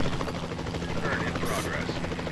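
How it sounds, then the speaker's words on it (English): Helicopter rotor drone from Jurassic World Evolution 2, a steady dense roar with a broadband rush, sitting under a voice speaking throughout. "We'll start by tranquilizing one of the dinosaurs from the helicopter"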